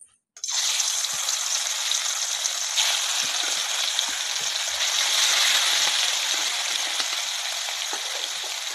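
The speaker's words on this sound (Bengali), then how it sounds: "মাছ ভাজা আমার এখানে হয়ে গেছে।" Fish sizzles steadily in hot oil in a wok, a loud, continuous, hissing fry that starts suddenly and holds at an even level throughout, with no voices.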